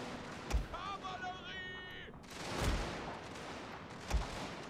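Shrapnel artillery volleys in the strategy game Scramble for the Far East, three heavy booms spaced a second or two apart against a busy battle din, with someone talking over part of it.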